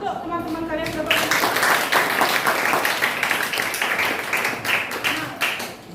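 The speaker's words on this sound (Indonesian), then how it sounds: "Tepuk tangan untuk teman-teman kalian yang dapat." A classroom of students claps for their classmates, a dense, lively burst of applause that stays steady for several seconds, with a voice heard over it briefly at the start.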